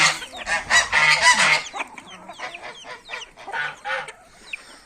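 Village chickens and other fowl call on a cold day, with a loud burst of overlapping clucks and honking squawks at first, then scattered single calls that trail off.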